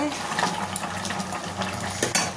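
A spoon clinks and scrapes against a pot as mutton curry is stirred, with a soft simmering sizzle underneath. The brief, close metallic taps come at an irregular rhythm.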